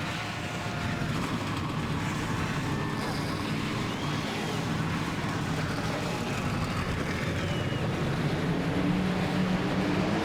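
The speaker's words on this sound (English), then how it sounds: "42 Gatorade Cup Series engines fire up, and we're rolling off the starting grid at the Pocono Raceway" Stock car engines fire up and idle at Pocono Raceway in the racing game NASCAR Racing 2003, a dense, continuous low rumble from a full field of cars held at a steady level throughout.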